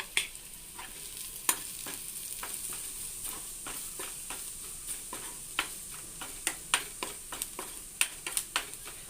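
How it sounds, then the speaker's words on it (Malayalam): Onions sautéing in a pan with chili powder and chicken masala for a green pea and potato kurma, a soft steady sizzle punctuated by repeated sharp clicks of a spoon stirring against the pan. "പച്ചമണം മാറുന്ന വരെ അതിലിട്ട് വഴറ്റുക."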